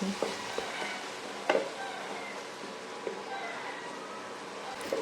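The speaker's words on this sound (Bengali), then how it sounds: "এখন আবার একটু ভালো করে নেড়েচেড়ে নিচ্ছি" A tomato and spice masala for khirod katla fish is stirred in a pan over a soft sizzle, with scattered scrapes and taps of the spoon against the pan, close and fairly quiet.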